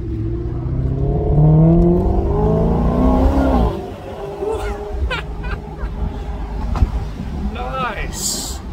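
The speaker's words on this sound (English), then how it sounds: "I love it how it downshifts." A 2014 Maserati GranCabrio MC V8 downshifts, its engine note swelling loud and then dropping sharply, followed by quieter road and cabin noise with voices talking inside the car.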